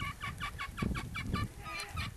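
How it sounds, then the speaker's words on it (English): Backyard chickens clucking in a coop, a steady run of repeated bright clucks close by over low rustling and shuffling, with no talking. "you see the chickens that I've got in there"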